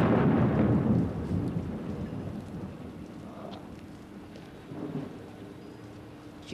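Steady heavy rain hissing across the scene, loudest in the first second, with a faint low rumble underneath and occasional drips standing out.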